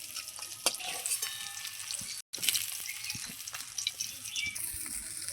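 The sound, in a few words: pangas fish frying in oil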